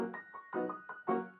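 Piano playing the opening line of Chopin's Etude Op. 10 No. 5 with sustain pedal: quick, light note clusters in an even, rippling rhythm, fairly quiet and close, the tones blending and lingering between attacks.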